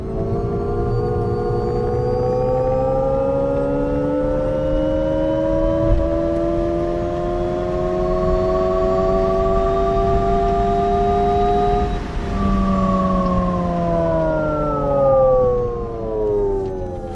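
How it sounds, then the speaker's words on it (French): Synthetic electric-motor sound played through the speakers of an Alpine A290 hot hatch: layered humming tones that rise slowly in pitch, dip sharply near the twelve-second mark, then climb again, smooth and sustained throughout. "un son artificiel qui va simuler non pas le bruit d'un moteur thermique, mais le bruit d'un moteur électrique"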